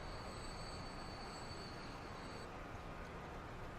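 Small Transport Fever game train running with a steady low rail rumble and a thin high wheel squeal that fades partway, quiet and continuous with no voices.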